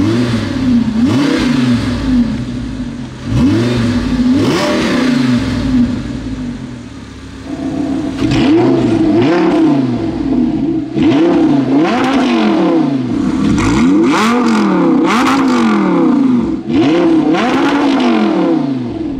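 Audi R8 V10 Plus on the move, its engine revving hard in repeated rising and falling sweeps, loud and close, with a brief lull midway before more aggressive revs.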